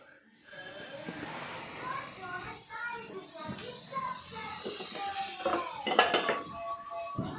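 Khasta pastries made from maida fry on a low flame in a pan and are flipped one by one, with a soft hiss and scattered clinks of a utensil against the pan while a voice talks over it.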